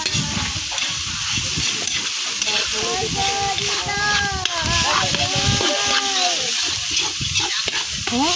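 Ground chicken sizzles and crackles steadily in a pan over a strong fire, a continuous frying hiss with stirring scrapes, while a voice talks over it.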